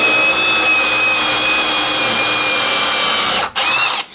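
A TECCPO 1/2-inch brushless cordless drill kit runs at a steady high whine for several seconds, close and loud, briefly dipping as the trigger eases before spinning up again.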